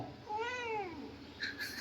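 A voice imitates a cat, producing one drawn-out rising and falling meow, close and clear with faint background noise.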